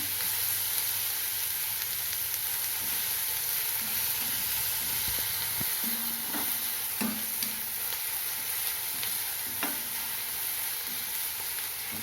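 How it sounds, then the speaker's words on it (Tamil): Onion and garlic sauté in a pan for a spicy dal adai, giving a steady, close frying sizzle with scattered stirring scrapes and small pops throughout, no voices. "வெங்காயம் சீக்கிரம் வதங்கினோன்னா உப்பு பெருங்காயம் சேர்த்துக்கலாம் இப்போ பூண்டு சேர்த்துக்கலாம்"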